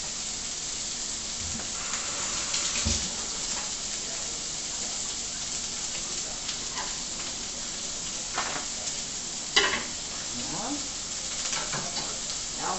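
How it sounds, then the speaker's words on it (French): Veal sausages sizzle steadily in a pan over low heat, a continuous close frying hiss broken by occasional scraping and stirring clatter, with no talk. "Vous faites légèrement revenir vos saucisses. Ce sont des saucisses de veau."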